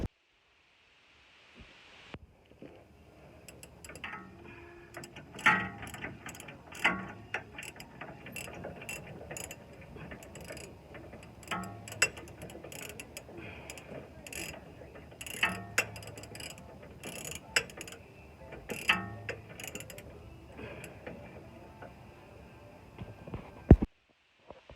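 A ratcheting spring compressor clicks repeatedly while squeezing a shock absorber coil spring, with irregular metallic ratchet taps and clanks scattered over about twenty seconds, close and fairly quiet; no talking.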